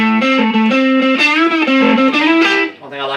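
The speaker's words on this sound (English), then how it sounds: "This is my heavier distortion sound." An electric guitar played through a heavier distortion effect rings out as a sustained, saturated melodic lead line with bent notes, loud and alone, dropping away at the end.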